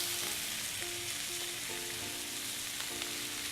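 Andouille sausage browning in a cast iron skillet, a soft, steady sizzle and hiss with faint crackles and some low tonal hum from the stove area, quiet and unbroken, no talking.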